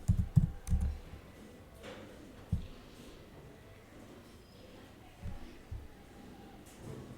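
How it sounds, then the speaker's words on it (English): Light tapping on a computer keyboard comes in a few quick, faint bursts of clicks separated by quiet pauses, close to the listener. "now we'll type ChatGPT over here"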